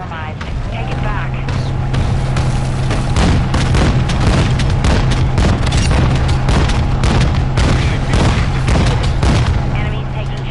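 Cruise missile strikes and combat in Call of Duty Modern Warfare 2, a dense, loud barrage of booming explosions and rapid gunfire that never lets up, with voices talking over it.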